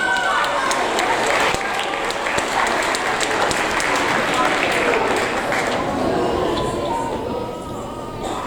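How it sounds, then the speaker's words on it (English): A school crowd at a sixth grade awards ceremony cheers and applauds for the award winners, with loud, sustained clapping and shouting that tapers slightly near the end. "we do enjoy your enthusiasm in cheering folks on"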